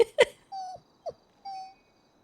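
A human voice imitates a sad puppy's whines: a couple of short yelps followed by three drawn-out, high, mournful whimpers, close and alone.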